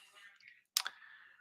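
Mouse clicks at a computer during a fantasy football best ball sim session: a sharp pair of near clicks stands out, with quieter faint clicking before and a light background hiss after.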